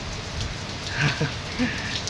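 Steady rain patters on a surface, with a few louder drips landing close by over the constant wash.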